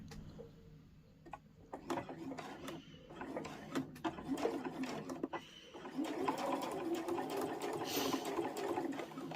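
A domestic sewing machine stitches around a fabric tray made from layer cake squares, its rapid mechanical whirring running in bursts that settle into a steadier, louder drone, close and without talk.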